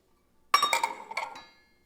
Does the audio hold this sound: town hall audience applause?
no